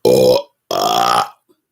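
A man lets out two loud, deliberate burps back to back, the first short and the second longer and drawn out, each resonant and close, separated by a brief pause.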